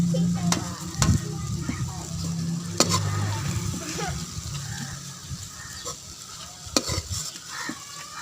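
Okra (bhindi) fries crisp in a pan with a steady, close sizzle, punctuated by sharp clinks and scrapes of a spatula stirring against the metal.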